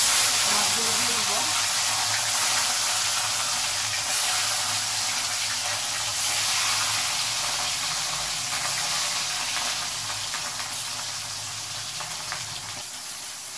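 Rohu fish pieces frying in hot oil in a wok, a steady dense sizzle throughout, close and even, with someone briefly talking at the start.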